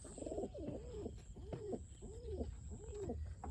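A pigeon coos repeatedly in a steady rhythm, several rounded low calls close by, with a faint high tone humming in the background.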